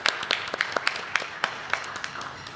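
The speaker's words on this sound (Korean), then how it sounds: "우리 뜨거운 박수로 축복하는 마음으로 함께" A church congregation claps briefly in celebration: a sparse, uneven scatter of individual handclaps at moderate distance, fairly quiet and thin rather than a full ovation.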